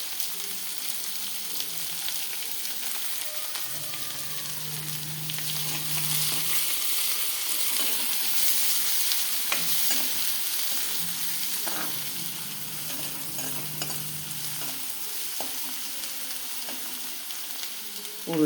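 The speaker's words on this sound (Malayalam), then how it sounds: "ഉള്ളി അരിഞ്ഞിട്ട് ഒന്ന് വഴലണം" Chopped onion sizzles steadily in hot oil after mustard seeds have spluttered, a continuous frying hiss with a couple of low stirring scrapes, close and moderately loud with no talking.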